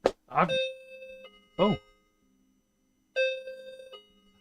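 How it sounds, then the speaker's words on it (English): A doorbell sounds twice as a bright, sustained electronic chime in a quiet room, the two rings separated by a pause, with a short spoken exclamation just before the first. "And that's the doorbell."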